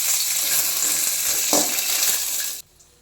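Dry red chillies and peanuts roasting in a little oil in a pan, with a steady close sizzle and a brief stirring scrape midway, cutting off abruptly near the end.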